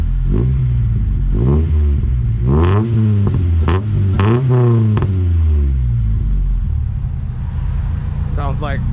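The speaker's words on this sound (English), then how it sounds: "already warmed up right now, so let's do a little rev video, Joe." A Honda Civic EG or CRX engine, already warmed up, is revved in several rising and falling bursts nearby, loud and throaty, with a pause before a final short rev.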